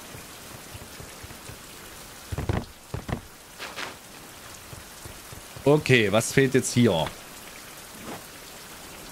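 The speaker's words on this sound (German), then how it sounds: "So, es regnet." Rain in the survival video game Survival: Fountain of Youth, a soft steady patter throughout, with someone talking briefly over it and a few short in-game sounds.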